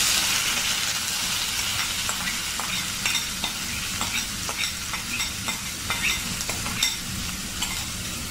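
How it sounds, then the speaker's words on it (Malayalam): Crushed onion fries in a hot pan for a Kerala-style squid stir-fry, giving a continuous bright sizzle and hiss broken by repeated scraping stir strokes. "ഇതിലേക്ക് ചതച്ച് വെച്ചിരിക്കുന്ന ഉള്ളി ഇട്ട് കൊടുക്കാം."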